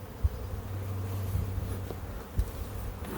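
Honeybees buzz softly around an opened hive during a colony split, forming a faint continuous drone with a few brief bees droning close by and scattered light clicks.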